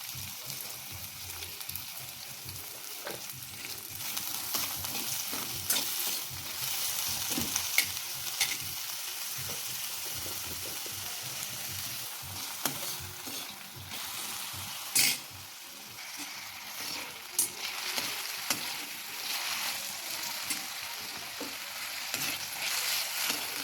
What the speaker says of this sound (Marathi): तेलामध्ये टाकून छान ट्रान्सपरंट होईल इतका परतवून घेऊया